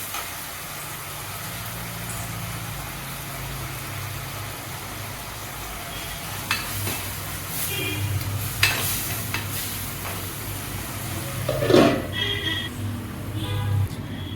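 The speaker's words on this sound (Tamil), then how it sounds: "இப்போ திறந்து நம்ம ஒரு வதக்கிட்டு கொஞ்சமாக கொத்தமல்லி இலை ஆட் பண்ணிக்கலாம்" Tomato prawn gravy sautéed in a pan after coriander leaves go in, a soft steady sizzle and occasional stirring scrapes with a low background hum, no talk.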